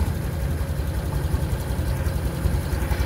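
A motorcycle engine idles nearby, a steady low rumble with a faint even pulse and no revving, loud and continuous the whole time.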